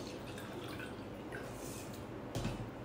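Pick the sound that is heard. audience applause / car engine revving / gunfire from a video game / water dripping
water dripping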